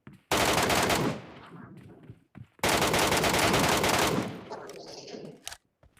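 Video game gunfire in MetroRoyale: two loud, close bursts of rapid automatic shots, each lasting over a second with a decaying tail, separated by a short gap, then a few fainter scattered sounds.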